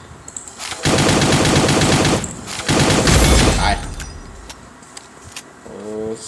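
Gunfire from the Cyber Hunter video game: two long, loud bursts of rapid automatic fire separated by a short pause, followed by quieter game sounds.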